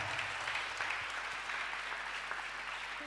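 A church congregation applauding during a sermon, a steady wash of many hands clapping at a fairly distant, even level for the whole stretch.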